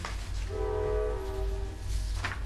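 A train horn sounds from outside a meeting room, a steady harmonic blast held for over a second amid low rumble and room noise, then fading.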